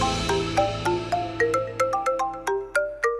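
A phone rings with a bright melodic ringtone, a quick sequence of rising electronic notes repeating clearly and loudly with no voices over it.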